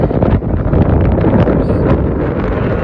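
Strong, steady wind roaring and buffeting against the microphone on a mountain top in the North Tetons, loud and continuous with no voices.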